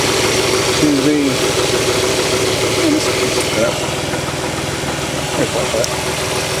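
A 2003 Cadillac CTS with the 3.2L engine idles steadily after an alternator replacement, a close, even mid-pitched hum with a few faint chirps and squeaks over it.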